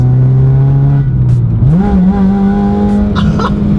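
A supercharged Honda Civic Type R with a custom-fabricated titanium exhaust revs steadily and loudly up close, its pitch climbing midway and holding high, with a few brief knocks over the engine.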